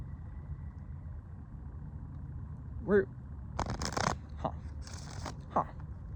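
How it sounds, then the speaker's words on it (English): A deck of tarot cards shuffled close by in a few short, crisp riffling bursts over a steady low background hum, with a brief voice sound just before. "We're gonna put these cards back and we're gonna shuffle again."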